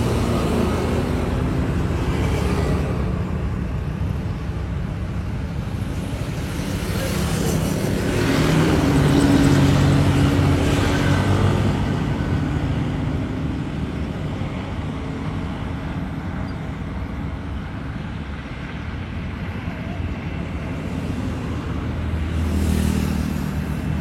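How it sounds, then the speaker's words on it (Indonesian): Road traffic rumbles on the busy Padang–Sicincin toll road, with an intercity bus bound for Medan among it. The vehicle noise swells in a broad rush around the middle and builds again near the end, steady and fairly loud, with no talk. "ini bus yang mau ke Medan"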